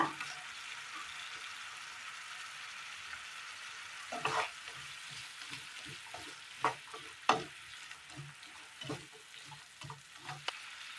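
Curry leaves frying in a pan with a steady hiss of oil, broken by a few sharp crackles and pops as leaves hit the fat and are stirred, with no talking.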